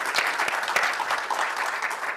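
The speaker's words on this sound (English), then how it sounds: "give them a round of applause to say thank you" Steady applause from an audience at an entrepreneurship panel discussion, a dense wash of clapping that holds evenly for a couple of seconds.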